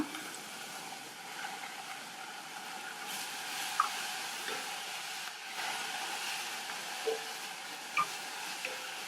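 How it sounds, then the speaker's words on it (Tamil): Vegetables are sautéed in a pan for a greens soup, giving a soft, steady sizzle and hiss with occasional stirring clinks and scrapes, close and moderate in level, with no voices. "எல்லாத்தையும் லைட்டாக வதக்கிட்டு கீரையை சேர்த்துக்கலாம்."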